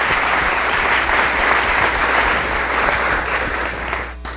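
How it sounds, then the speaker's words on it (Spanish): Church congregation giving sustained applause, thick continuous clapping at steady volume that tapers off abruptly at the very end. "Vamos a darle un aplauso al Rey de Reyes y Señor de Señores."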